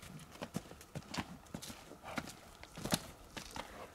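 A stallion's hooves clip-clop at a walk on firm ground at a stud farm, giving a steady uneven rhythm of moderately close hoof strikes over faint background noise.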